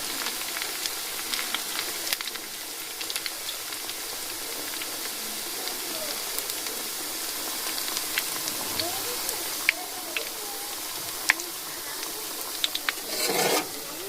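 Flower pitha fries in hot oil in a kadai with a steady, close hiss and crackle of bubbling, plus occasional sharper pops and a brief louder sizzle near the end.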